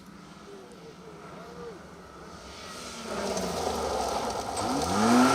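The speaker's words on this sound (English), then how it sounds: "Alan Jones there in the Mark II RS 1800, making a better job, albeit not quite as entertaining, of this 90 right onto tarmac" Ford Escort Mark II RS 1800 rally car on a tarmac stage, its engine heard from a distance and swelling louder as it approaches, revving through a 90-degree right turn.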